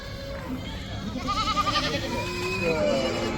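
Young goat kids bleat at a crowded goat market in Chattipparamba, Kerala, a few wavering cries mid-clip heard amid steady market chatter and background voices.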